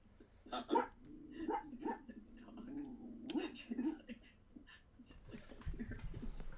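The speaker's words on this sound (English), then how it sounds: "There's a barking Cuda" A dog barks several times in short bursts, fairly close but not loud, mixed with people talking quietly nearby.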